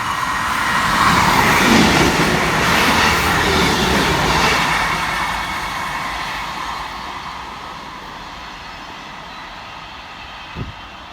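East Midlands class 158 diesel units 158810 and 158846 run past at speed, a loud rushing roar that peaks early and then fades slowly as the train recedes.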